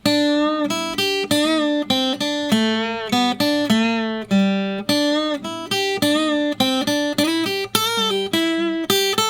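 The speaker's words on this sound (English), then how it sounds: "we're jumping into line number 3 for some more bending" A slow electric guitar solo line from a song, tuned down a half step, with repeated string bends that swoop up between short, clearly picked notes, loud and close with no talking.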